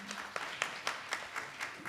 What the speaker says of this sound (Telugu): దానికి ఇంకొకసారి కొట్టండి మరి చప్పట్లు.